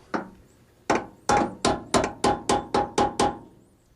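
Hammer strikes tap door hinge pins into the door of a 1988 Chevy: about ten sharp, close metallic knocks, starting sparse and then settling into a steady, quickening rhythm.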